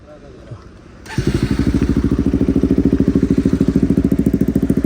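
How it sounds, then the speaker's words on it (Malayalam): A 180cc motorcycle with an upside-down fork and a free-flow exhaust starts up after a second of quiet and settles into a loud, close, steady, throbbing idle with rapid, even exhaust pulses. "ഇതിൻ്റെ എക്സോസ്റ്റ് സൗണ്ട് കേൾപ്പിച്ചിടാം കേട്ടോ ഒരു രക്ഷയില്ലാത്ത സൗണ്ടാണ്"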